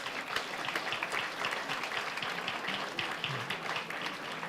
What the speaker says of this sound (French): je pense qu'on peut applaudir encore plus fort